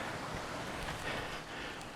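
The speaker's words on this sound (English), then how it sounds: "there's quite a bit of water going through it" A small river in rural Portugal flowing full with winter water, heard as a steady, close rushing wash with no voices.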